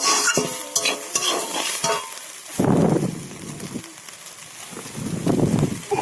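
Cabbage and mixed vegetables for chow stir-fry in a hot pan, a continuous sizzle broken by two louder bursts of spatula scraping and tossing, with faint clinks between them.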